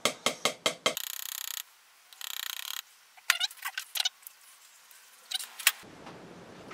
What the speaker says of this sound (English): Give it a few taps to settle the sand.